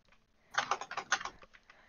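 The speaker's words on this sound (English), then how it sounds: "I can hear your butterfly clicking" Rapid, light butterfly-clicking on a computer mouse in quick bursts during a Bedwars game, close and fairly quiet, with no talking.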